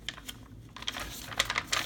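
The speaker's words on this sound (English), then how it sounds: "And I love the sound coffee dyed paper makes, don't you?" Coffee-dyed paper pages of a handmade stenciled journal being handled, giving several soft crinkling, rustling bursts that grow denser toward the end, close and fairly quiet with no talking.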